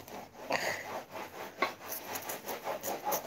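Onion being finely chopped gives faint, quick, irregular scraping taps on a board, with a soft rasping texture throughout.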